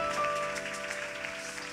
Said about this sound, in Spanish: hay fuertes los aplausos a la Virgen María Santísima.